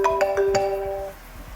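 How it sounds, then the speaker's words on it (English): A phone rings nearby with a short run of bright electronic ringtone notes that stops abruptly after about a second. "the phone's ringing now"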